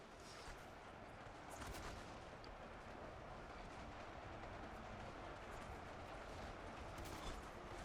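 Redcoat musket volleys in Ultimate Epic Battle Simulator II, a continuous distant roar of massed fire with scattered sharper cracks, steady and faint throughout with no voices.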